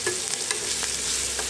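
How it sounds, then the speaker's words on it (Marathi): Peeled garlic and ginger hit frying onions in a steel wok, giving a brief burst of bright sizzling with a few stirring scrapes, loud and close. "आता ह्याच्यामध्ये सोलून लसण अद्रक टाकते."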